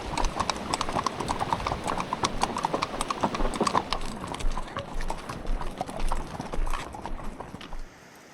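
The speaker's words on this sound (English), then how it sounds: "We walked our horses across the bridge" Icelandic horses walk across a bridge on a horse tour in Iceland, their hooves clip-clopping in a loud, close, irregular stream of hollow knocks from several animals at once.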